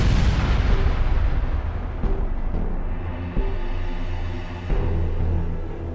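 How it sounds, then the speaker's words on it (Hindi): A loud, sustained roaring crash with heavy rumbling and several sharp impacts, like a violent explosion and grinding wreckage as derailing train coaches crash, with no voices. "ट्रेन के पिछले हिस्से के गुजरते ही एक तेज धमाका हुआ।"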